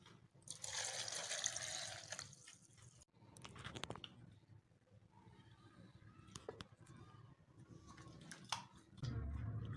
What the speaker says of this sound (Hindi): अब इसमें पानी डाल लेंगे 1 गिलास।